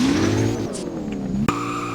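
A sports car drifts in a Roblox game, its tire squeal sustained and loud with engine drone underneath, then a sharp click partway through before the squeal settles again.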